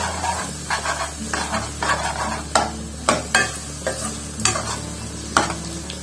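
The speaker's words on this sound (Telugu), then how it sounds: "మామిడికాయ తురిమేసినప్పుడు వేసి మంచి కలుపుకోవాలి" Grated raw mango stirred in a hot pan for a festival tamarind-style rice dish, giving a steady sizzle with repeated scraping strokes of the spoon every second or so, close and clear, no talking.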